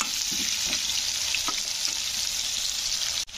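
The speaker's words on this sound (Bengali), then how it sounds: "তো আলুগুলো একটু আগে ভেজে নিতে হবে।" Potatoes fry in oil in a wok, a steady bright sizzle with small pops and occasional soft stirring knocks, continuous and fairly quiet, ending in a brief clatter.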